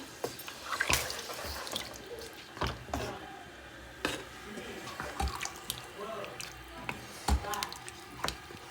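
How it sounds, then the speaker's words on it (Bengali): Fish are rinsed with water and salt in a home kitchen: soft splashes and scattered sharp drips come in irregular bursts, fairly quiet, with faint voices now and then. "মাছটাকে ভালো করে লবণ দিয়ে ধুয়ে নেবো"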